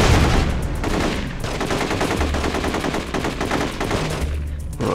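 Rapid gunfire bursts from the video game The Getaway, loud and continuous with machine-gun rattles and repeated shots over several seconds.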